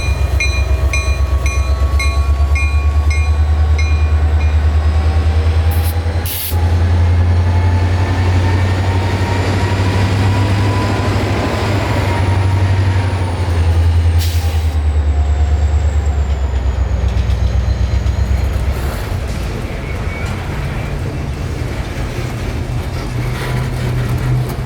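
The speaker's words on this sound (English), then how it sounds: "My friends, this is the Juice Train" The Juice Train, a freight train, rumbles past close by in Tampa, a loud continuous roll of wheels and cars with occasional high squeals and clanks throughout.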